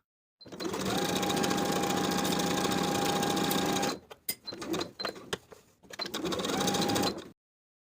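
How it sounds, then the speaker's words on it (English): A sewing machine runs in a steady, loud stretch as it stitches fabric jumper straps along straight edges with a half-inch seam, then stops and starts in short bursts before one more continuous run. "We're going to sew with a 1/2 inch seam allowance along the long straight edge as well as along the short straight edge"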